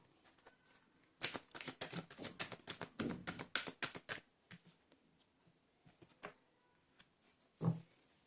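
A deck of tarot cards being shuffled up close in a long run of quick riffling flicks and taps, then a few scattered taps and a louder slap near the end, with no voice.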